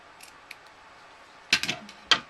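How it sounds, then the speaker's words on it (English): Sharp scissors snip ribbon during a ribbon-weaving wreath craft, a couple of faint light ticks followed by two close, crisp cuts with a short pause between them. "With a pair of sharp scissors, you just trim it flush."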